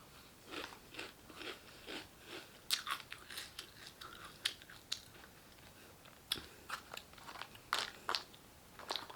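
Someone eating crunchy Halloween cereal, quiet close-up bites and crunchy chewing in irregular bursts with short pauses between mouthfuls.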